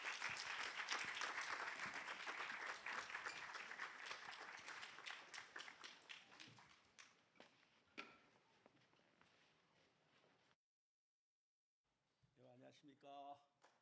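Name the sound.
audience applause in chapel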